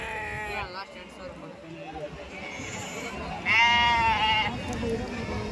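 Young ram lambs bleat at a livestock market, several wavering cries rising over steady crowd chatter and background noise, one loud nearby bleat standing out midway.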